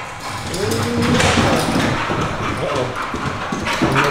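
A dog's heavy footsteps thud and clop on a hard floor nearby in an uneven rhythm, with people talking over them.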